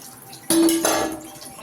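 Water poured into tamarind in a kitchen vessel while making ulavacharu, a brief close splash and trickle lasting under a second against quiet room tone.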